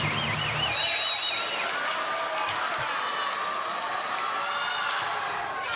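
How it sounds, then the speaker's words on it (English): Arena crowd at a Houston vs BYU women's college volleyball match cheering steadily at set point, a broad sustained roar with whistles and a brief tonal call near the start. "And it gets the crowd on their feet."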